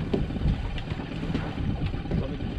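A fishing boat's engine runs in gear on the ocean, off Tillamook, Oregon, a steady low rumble with wind noise and water around it.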